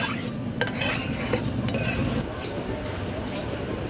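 A metal strainer scoops bits of sesame out of hot frying oil while chili fries, with clinks and scrapes against the pan over a constant close sizzle.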